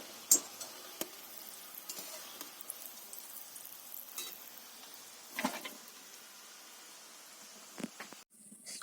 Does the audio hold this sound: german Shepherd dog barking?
no